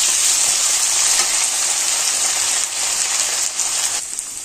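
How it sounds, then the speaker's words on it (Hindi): Diced potatoes for aloo methi sizzle in hot oil in a pan, a loud, dense, hissing crackle that runs steadily throughout with small dips, close up and with no voices. "इसको ऐसे ही फ्राई करना है।"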